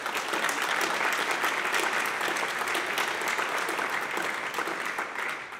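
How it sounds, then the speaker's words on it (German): Audience applauding steadily at a CDU party event in Germany, a dense, sustained wash of clapping from a large crowd that fades slightly at the end. "Applaus"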